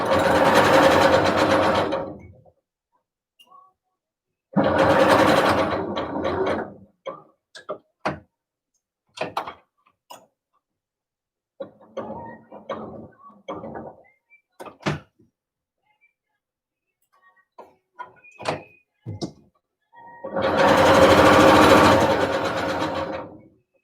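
Home sewing machine stitching white thread on white stretch fabric, running in three sustained bursts of several seconds each, with scattered clicks, taps and handling knocks in the quiet gaps between runs.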